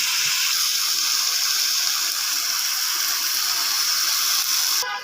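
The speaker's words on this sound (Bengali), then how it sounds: "এখন সবজিটা দিয়ে দেবো।" Vegetables tipped into a hot pan of fried spices for a fish curry, giving a loud, steady hiss and sizzle that fills the whole stretch and cuts off sharply at the end.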